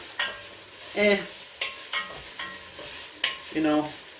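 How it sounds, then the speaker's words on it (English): Onions cooking down over high heat in a pan for chili, with stirring scrapes and sizzling that rise and fall in short bursts, close and moderately loud, with no talk. "So we're going to cook these onions down."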